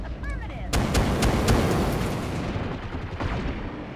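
Mech alpha strike in BattleTech from a Firestarter, a burst of heavy weapons fire: loud booming, crackling blasts starting abruptly and sustained, with a rumbling tail that fades toward the end.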